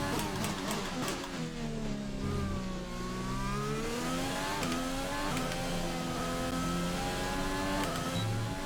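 An F1 race car engine in the F1 2020 video game at the Australian GP whines and revs continuously, pitch sweeping up and down through gear changes, loud and steady with no talking.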